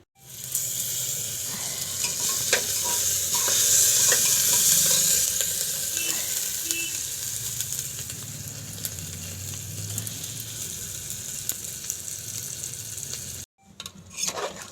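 Potato curry fries in a pan with a strong, steady sizzle and repeated scraping stirs, then cuts off abruptly before a few closing clatters.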